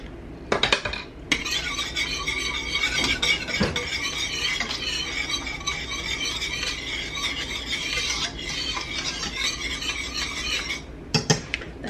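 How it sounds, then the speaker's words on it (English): A utensil stirs gravy for Salisbury steak in a metal pan, producing continuous close scraping and clinking with a few sharper knocks near the start, middle and end. No one talks. "Stir it up. And this is going to thicken a little bit."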